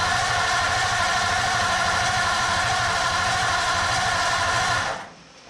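Roadster engine cranking over without fuel on a drained battery: a steady, rapid mechanical chugging at close range, loud and continuous for about five seconds before cutting off abruptly.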